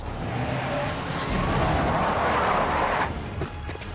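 A truck drives in an animated Marvel's What If episode: a loud roaring engine surges close by with a gritty, screeching tire-like rush that cuts off sharply near the end, no voices over it.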